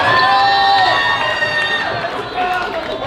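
Comedy roast audience cheering and whooping loudly right away, then tapering slightly while staying energetic for a few seconds.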